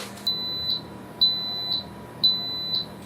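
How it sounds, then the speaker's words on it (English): An Instant Pot pressure cooker's timer sounds three evenly spaced, high, steady electronic beeps, each about half a second long, clear and alone in a quiet kitchen. "So the thing sure lets you know when the timer's done, doesn't it?"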